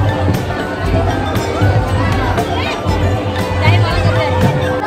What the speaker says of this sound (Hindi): तो गाइस देख सकते हैं इधर कितना भीड़ है